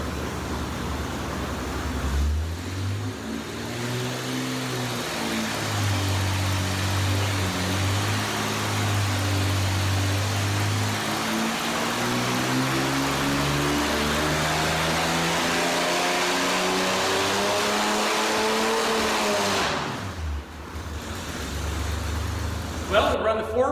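A 292 engine fitted with a Clifford intake and a 650 Holley four-barrel carburetor cranks over, fires and settles into a loud, steady run for most of the stretch, with a few revs and a brief drop near the end.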